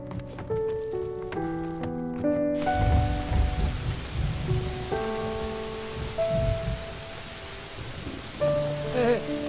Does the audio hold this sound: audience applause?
no